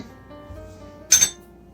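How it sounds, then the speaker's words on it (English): A spoon stirs a pear mocktail with lemon juice in a glass, giving a brief double clink of metal against glass, fairly quiet against a faint room hum. "I'm just going to give it a little stir"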